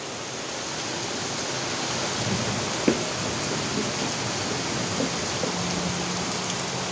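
Rain falls steadily outside as an even, continuous hiss, with one faint knock partway through and no voices.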